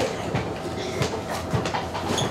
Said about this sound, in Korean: 무심하게 달리는 열차도